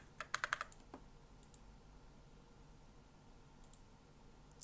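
Several quick computer mouse clicks while drawing lines in Google Earth, a tight burst near the start and then a lone click, with faint clicks later over quiet room hiss.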